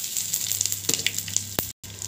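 Tempering spices such as mustard seeds, cumin, chana dal, dried red chillies, curry leaves and asafoetida fry in hot oil, a bright crackling sizzle with sharp pops, near and fairly loud, then a sudden brief silence before the sizzling resumes.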